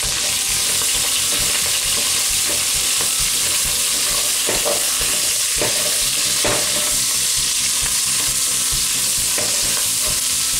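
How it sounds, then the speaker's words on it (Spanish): Bacon and sliced onion fry over medium heat in a pan, a loud, steady sizzle close up, broken by a few sharp scrapes and clacks as the mix is stirred, with no talking. "Cuando el tocino ya empiece a estar dorado, le vamos a agregar la cebolla"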